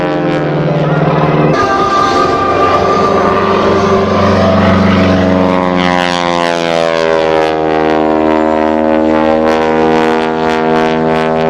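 A propeller airplane flies aerobatics, including inverted passes, at the 2005 Saskatoon air show. The engine drone is loud and sustained, and its pitch sweeps up and down as the plane maneuvers. A commentator's voice is faintly audible underneath.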